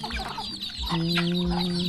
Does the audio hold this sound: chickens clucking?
yes